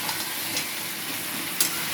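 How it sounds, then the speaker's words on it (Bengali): Steady broadband sizzle of chicken frying in oil in a hot pan, with a couple of brief scraping clicks from stirring; no voices. "এরকম করে ভালোভাবে ভেজে নেব।"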